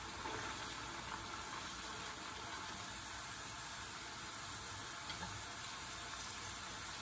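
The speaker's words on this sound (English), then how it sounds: "Deep fry until they get golden brown color and crispy." Sliced lotus root chips deep fry in hot oil, giving a steady, even sizzling hiss that carries on alone without any voices.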